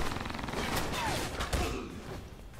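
Rapid bursts of gunfire in the spy shooter Alpha Protocol, a dense, steady clatter of overlapping shots held at a fairly even level for a few seconds with no one speaking.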